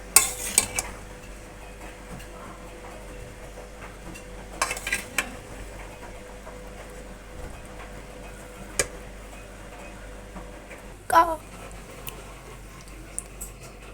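Aloo dum biryani being mixed in a pot, with faint scraping and clinks of a spoon against metal, a few sharper knocks standing out over a quiet kitchen background.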